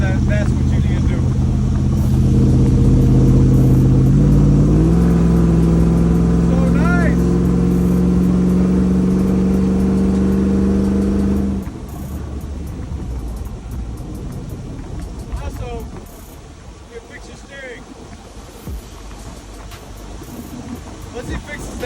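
A Whipple-supercharged, Coyote-swapped Ford F100 truck drives with a loud rising engine drone and supercharger whine that holds, then drops abruptly to a lower rumble with road noise as the truck cruises on; someone talks throughout.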